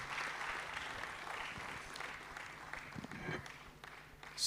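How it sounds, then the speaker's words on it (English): An audience at the ICTEL Expo 2017 opening ceremony applauds a keynote speaker steadily, a fairly faint, even wash of clapping that holds for several seconds with no talk. "Here's another rousing round of applause for our keynote speaker."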